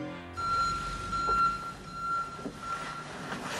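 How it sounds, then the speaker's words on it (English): A forklift's backup alarm beeps at a high, steady pitch in a repeating pattern over rumbling machinery noise, continuing for most of the stretch. "We have a backup alarm."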